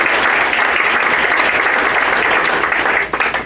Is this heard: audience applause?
yes